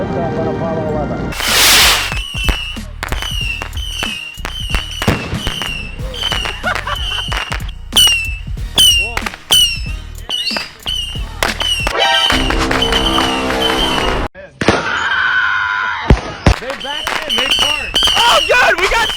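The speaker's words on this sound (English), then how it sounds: "we're gonna set off a rocket" A firework rocket is set off outdoors among crackling fireworks. Sharp, loud bangs and pops come in an irregular series, with a whooshing launch near the start and people talking and reacting between blasts.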